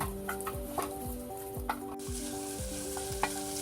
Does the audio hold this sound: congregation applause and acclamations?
no